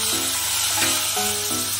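Green chili and onion frying in a pan with mushrooms for a street-food Maggi burger, a loud continuous sizzle and hiss with several short stirring scrapes, close up.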